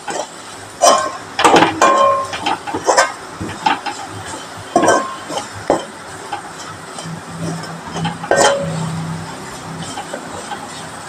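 Chili powder, black pepper, garam masala and turmeric are stirred in a pan, a spoon scraping and clinking against the metal in irregular close bursts over a soft background.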